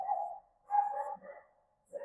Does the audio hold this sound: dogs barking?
yes